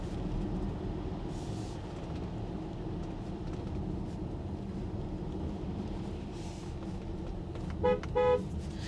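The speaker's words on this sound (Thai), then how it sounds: "เสียงแตรดังดีนะครับ" From inside a ZEEKR 7X Long Range electric SUV on a road trip, a steady low road rumble gives way near the end to two short, bright horn honks in quick succession.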